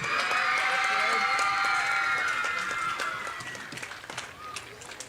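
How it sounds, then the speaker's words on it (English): Crowd applause and cheering at a drum competition, a loud burst of clapping and shouts that gradually fades over several seconds, with voices mixed in. "Let's give everybody a round of applause."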